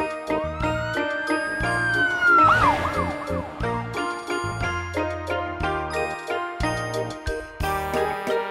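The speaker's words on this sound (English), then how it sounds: "Police car." Police car siren from a children's animal and vehicle sounds collection, a rising wail that shifts into fast warbling yelps, loud and close, layered over bright jingly background music with no talking.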